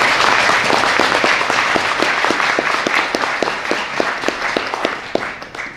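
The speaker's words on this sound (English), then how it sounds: "Let's clap." Audience applause at a Teachers College EPIC innovation award ceremony at Columbia University, a steady wash of clapping from a full room with some sharper individual claps standing out, sustained throughout without speech.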